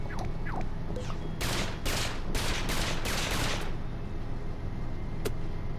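Bursts of gunfire from a custom-built gun in LittleBigPlanet 3, several broadband volleys in quick succession over a steady game background, then a single sharp shot near the end.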